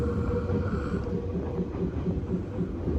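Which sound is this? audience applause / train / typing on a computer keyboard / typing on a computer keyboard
train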